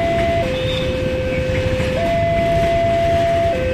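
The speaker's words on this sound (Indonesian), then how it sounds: "Itu kepalanya udah lewat. Masa kereta mundur?" Railway crossing signal at Kiara Condong station in Bandung as a train passes, a steady electronic warning tone that steps in pitch, with continuous rumbling train noise underneath.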